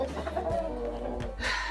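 Several chickens cluck inside a pop-up chicken coop, a steady, close mix of low clucks and muttering with a few sharper calls, no talk.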